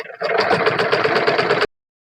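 Sewing machine stitching a seam on a double katori blouse, a steady fast mechanical whirr running for under two seconds before stopping abruptly, close and alone.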